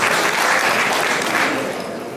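A room applauding at a newspaper's 50th anniversary celebration, a loud, dense, continuous round of clapping close by that eases slightly toward the end.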